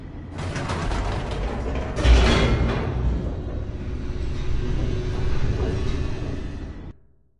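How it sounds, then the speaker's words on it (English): Elevator in The Stanley Parable descending, a loud mechanical grinding with ratcheting clanks and a low rumble, a heavy jolt early on, then steady rattling until it stops abruptly. "The elevator raced downward, plummeting towards an unknown fate."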